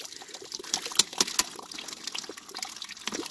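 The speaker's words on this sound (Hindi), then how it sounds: "तो दोस्तों ये भर रहा हूं मैं पानी" Cold, clear mountain spring water pours and gurgles into a bottle on a high-altitude Himalayan trek, a close, uneven splashing trickle with sharp bright spatters, heard alone.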